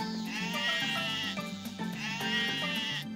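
A sheep in the farming video game Harvest Moon: Light of Hope gives a drawn-out, wavering bleat, repeated in two loud, close calls.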